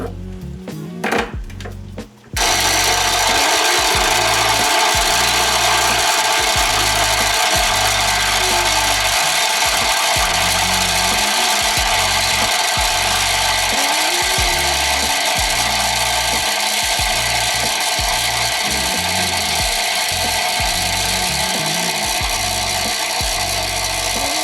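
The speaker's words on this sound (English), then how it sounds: "Anytime you add a new bag of beans in, you should purge out some of the grinds to clear out what was already in there." An espresso coffee grinder purging old grounds after a fresh bag of beans is added, a loud steady motor whir with a grinding rattle running continuously for over twenty seconds after a brief quiet start.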